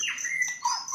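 An anting lowo songbird chirps in quick, bright, high-pitched phrases, close and fairly loud, with no voices over it.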